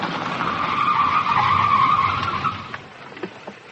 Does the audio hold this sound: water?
no